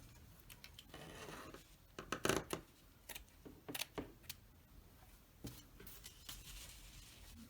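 Scissors snip through paper for a junk journal, a few crisp cuts and rustles at close range, fairly quiet, with no talking.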